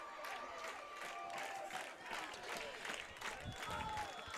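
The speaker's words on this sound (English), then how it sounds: "This Gravette crowd is fired up." Home crowd at Gravette Stadium during a high school football game, a distant roar of clapping and cheering that swells and holds under the stadium din.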